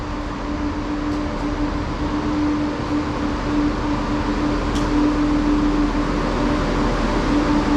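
A three-carriage train, unit 17428, departs North Queensferry station with a steady, fairly loud rumble and a hum that runs the whole time. No one speaks.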